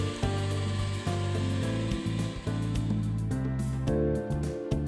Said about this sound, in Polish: Do cięcia cegieł należy stosować przeznaczoną do tego celu piłę.